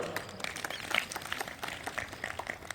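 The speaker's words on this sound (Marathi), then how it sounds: "एक टाळी वाजव" Scattered applause from a yoga class in Tardal, Sangli rises faintly in a room, a soft patter of many hands clapping at a distance.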